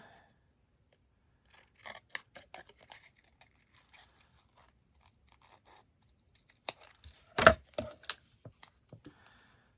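Scissors cutting paper to trim down a scrappy notepad, a series of quiet snips and crisp crunching cuts, close by, with one louder sharp snip near the end and no talking.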